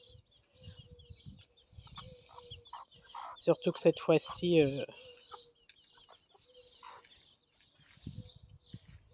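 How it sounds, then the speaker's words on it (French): Chickens cluck and murmur in a henhouse holding six to ten hens, with a burst of louder clucking and squawks in the middle; a person talks quietly over parts of it. "c'est un poulailler entre 6 et 10 poules"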